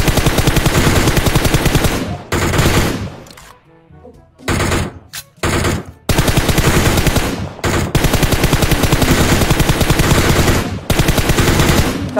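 Sustained automatic gunfire from enemies in a shooter video game, loud rapid bursts filling most of the stretch, broken by a short lull with scattered single shots before the heavy firing resumes and continues to the end.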